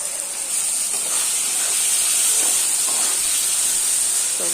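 Onions frying in a pan with salt, a little sugar, turmeric and cumin powder, giving a loud, steady sizzling hiss that holds evenly throughout with no talk.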